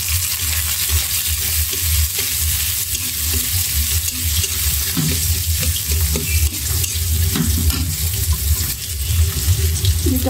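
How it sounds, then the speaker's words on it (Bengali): Sliced onions hit hot oil in a pan after koi fish were fried, giving a dense, unbroken sizzle with scattered stirring clatter, loud and close throughout with no voices. "এখন পেঁয়াজ দিয়ে দিলাম"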